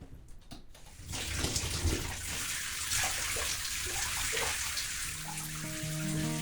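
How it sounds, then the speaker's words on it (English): Running water pours steadily while hair is being washed, a close, continuous splashing rush that starts after about a second and carries on to the end, with a faint tonal hum rising near the close. "washing the hair."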